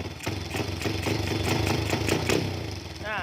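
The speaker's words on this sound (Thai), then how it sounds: "อ่าเปิดคันเร่งดูหน่อยแง้มดูหน่อยครับ" A Honda Wave 100 converted into a dirt bike, engine running close by with the throttle eased open, giving a steady buzzing, pulsing drone that rises slightly before settling back.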